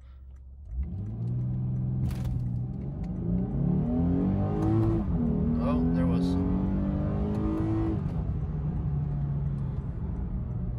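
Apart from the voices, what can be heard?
Lexus IS 350 engine revving during launch control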